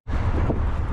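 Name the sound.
wind while cycling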